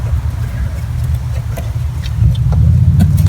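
A 1985 Toyota Pickup with the 22R engine runs close by after a cold start, a loud steady low rumble that swells slightly louder in its final second.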